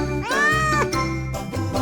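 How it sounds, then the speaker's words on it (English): A cartoon cat meows clearly in a Peppa Pig toy play story, with a bright rising-falling cry over a steady low background hum and light chiming tones. "But when she got there, a cat was sitting on it."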